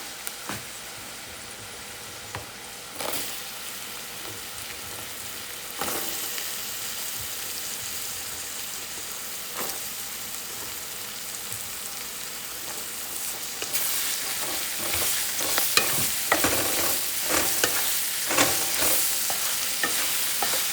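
Pumpkin pieces frying in a pan for a Punjabi dinner, a continuous soft sizzle with intermittent spatula scrapes and stirs that grow busier and louder toward the end.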